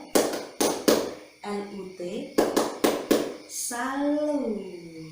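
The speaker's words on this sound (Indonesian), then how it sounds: "kita beri tepuk salut untuk Ibu Tuti" A group claps in sharp, rhythmic bursts for a salute cheer, several tight clusters of claps spaced across the stretch, with voices calling out between them.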